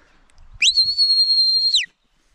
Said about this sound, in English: So this will be our lie down whistle.